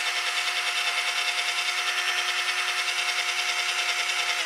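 A power drill spins a polishing pad against a car headlight during a Meguiar's headlight restoration, giving a loud, steady, unbroken whir with a constant pitch and no voices.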